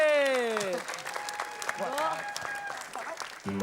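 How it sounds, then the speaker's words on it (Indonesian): Studio audience applause for a comedian on an Indonesian TV comedy show, a dense wash of clapping under a rising musical sting and loud voices. "Coba kasih tepuk tangan buat Wewe."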